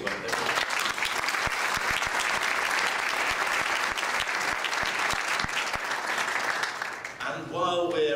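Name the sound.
audience applause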